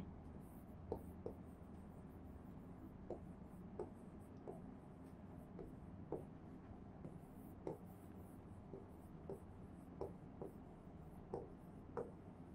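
Handwriting on paper, faint soft scratching with short pen taps recurring every second or so across a quiet room, no voices.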